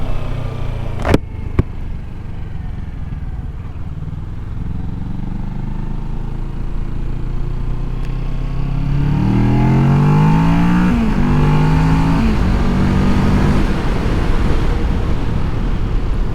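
A 2019 Kawasaki Ninja 650 motorcycle engine holds a steady drone, then revs up and climbs through rising pitch sweeps toward the rev limiter, loud and close throughout.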